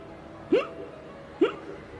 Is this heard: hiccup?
yes